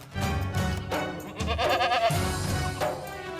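Goats bleating on a village goat farm, several loud drawn-out calls in succession, close by with no talk.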